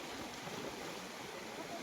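Water released from the Terna dam surges down a river channel that has flooded nearby farmland, making a steady, loud, close rushing roar that holds at an even level throughout, with no voices.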